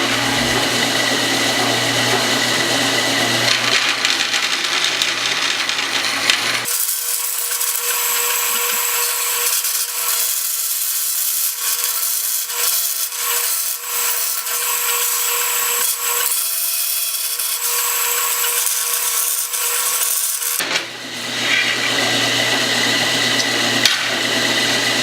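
Power saw cutting a wooden blade sign shape, a loud continuous buzzing cut with a higher-pitched stretch in the middle as the piece rubs the saw's back, close with no talk.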